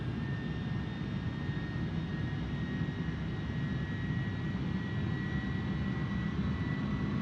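A continuous roar from a heavily loaded airliner's engines on final approach in a flight simulator game, holding level and constant throughout with a thin tonal whine on top and no speech.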